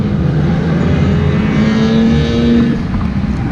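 Several drift cars, including an S13, R32, IS300 and AE86, run close tandem on a race track, a steady loud engine roar holding throughout with no pauses or talk.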